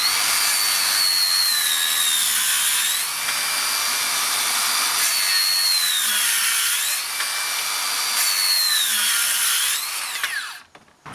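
A cordless 125mm circular saw, one of a Makita 40v and HiKOKI 36v pair, runs with a loud high-pitched whine that repeatedly dips and recovers in pitch, then winds down abruptly at the end, no speech.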